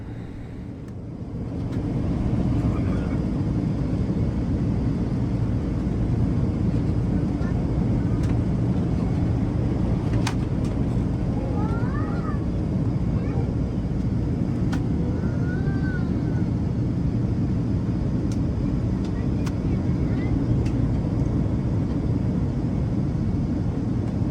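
Steady broadband engine and air roar fills a Delta One airliner cabin in turbulent flight after takeoff from Salt Lake City bound for Honolulu, constant and loud throughout with a few faint chimes and distant voices over it.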